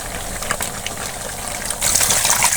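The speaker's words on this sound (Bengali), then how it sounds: "আমি এই পর্যায়ে পানি দিয়ে দেবো ঝোলের" Warm water poured into a pot of simmering beef curry to make the gravy, a steady close gushing splash that grows louder and brighter toward the end.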